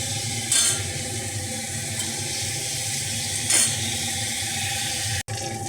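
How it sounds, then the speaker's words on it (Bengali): Potato pieces fry steadily in hot oil in a pan for a paneer and potato curry, a continuous close sizzle with a couple of brief louder bursts where the pieces are stirred. "এবার আলুটাকেও ভেজে নিচ্ছি"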